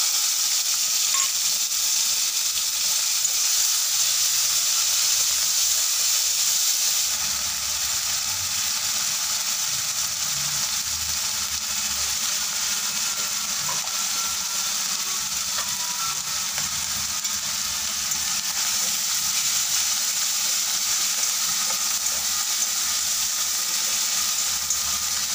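Ginger, onion, garlic and green chilli paste fries in oil with a pinch of salt, giving a steady, close sizzling hiss that runs unbroken for the whole stretch with no talking.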